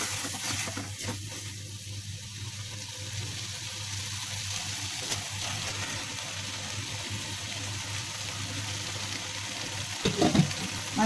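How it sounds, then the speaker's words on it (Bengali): Prawns frying in a cooked-down spice paste for prawn malaikari, a steady close sizzle throughout with light stirring scrapes near the end. "আমার মশলাটা কষানো হয়ে গেছে এখন আমি এর মধ্যে মাছগুলো দিয়ে দেবো"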